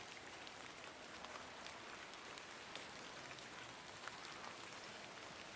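Soft, steady rainfall in The Excavation of Hob's Barrow, a faint even hiss of drops pattering on surfaces with occasional slightly sharper drips, unbroken and distant-sounding.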